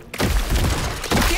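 Dense burst of video game gunfire from High On Life, a rapid sustained volley of loud shots and impacts filling the whole moment with no break.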